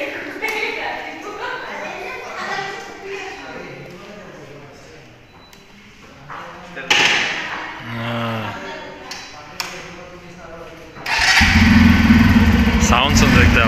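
A brand-new Bajaj Pulsar F250 motorcycle at its delivery is started near the end, bursting into a loud, close engine rumble after a stretch of people talking nearby.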